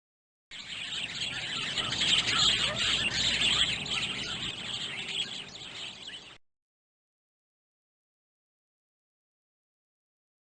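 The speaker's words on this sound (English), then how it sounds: "Sparrow." Sparrow chirping in the 1993 PC game The Tale of Peter Rabbit, a bright run of quick twittering calls lasting about six seconds, then silence.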